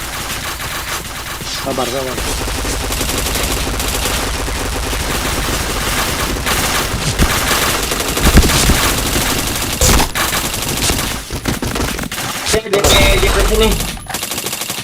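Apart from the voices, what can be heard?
machine gun fire in a shooter video game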